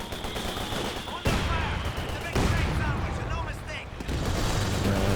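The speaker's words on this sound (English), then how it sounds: "Is that a heavy barrage now?" Company of Heroes 2 battle with a heavy artillery barrage and machine-gun fire, dense rattling shots and booming impacts layered together, sudden loud blasts punctuating continuous gunfire, with a commentator talking over it.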